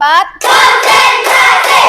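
A school class claps hands in counted bursts, a brief voice followed by several loud, dense rounds of clapping in quick succession, close and energetic.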